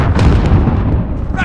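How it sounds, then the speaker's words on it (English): Airstrike explosions in Call of Duty: Modern Warfare Team Deathmatch, heavy booming blasts rolling one into another, loud and close, with game voice chatter layered over the rumble. "Airstrike inbound."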